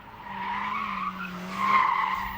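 Young drivers throw their cars sideways in a drift session, tyres squealing in long, wavering skids over a droning engine note, with a louder, sharper squeal swelling near the end.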